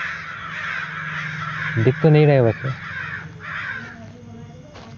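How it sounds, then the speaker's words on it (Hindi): Crows caw in the horror video game Sinister Edge: a quick cluster of harsh, close caws rises briefly over a low ambient hum, while someone talks quietly before and after. "कौवे कहाँ से आ रहे हैं यार"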